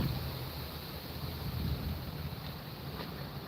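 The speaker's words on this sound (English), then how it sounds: "It's getting windy." Steady wind outdoors on a hot day, a continuous low rumble and buffeting across the microphone with no talk, holding at a moderate level throughout.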